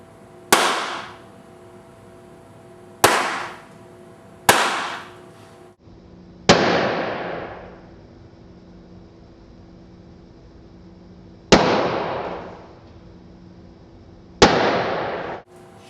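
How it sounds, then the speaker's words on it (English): Several sharp balloon pops, six in all at irregular intervals, each from a transparent balloon with a dark follicle inside burst by a laser; each bang is loud and close with a short decaying tail, and no voices. "when I shine the laser into this, I'll be able to explode the follicle inside"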